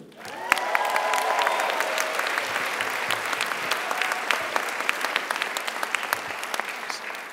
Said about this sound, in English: Give yourselves a cheer.